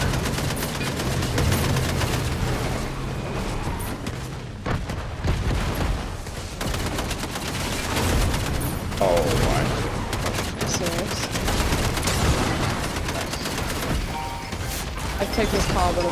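Chaotic gunfire in the battle royale game Fortnite: dense, continuous bursts and crashes run through the whole stretch, mixed with game noise and under people talking.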